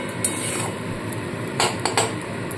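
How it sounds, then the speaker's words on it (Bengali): Spice paste thinned with a little water is stirred in a pan, giving a steady low frying hiss broken by a few sharp metallic clinks of the spoon against the pan. "ভালো করে এবার সমানে কষাতে থাকবো।"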